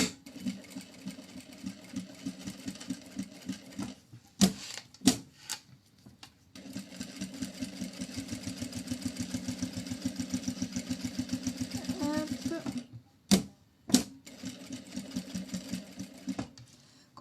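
A sewing machine stitches all the way around a handmade Ambre bag, running in long steady bursts of rapid, even needle clatter with short pauses between runs, close and fairly loud.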